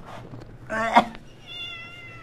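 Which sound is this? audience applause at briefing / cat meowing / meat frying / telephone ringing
cat meowing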